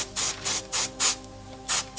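An airbrush sprays paint onto a miniature in five or six short, close hissing bursts separated by brief pauses.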